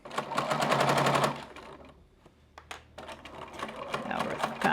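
Sewing machine stitching around a small fabric bag shaped like a purse, a fast loud rapid run of needle strikes for over a second, then quieter handling noises and a second softer burst of stitching.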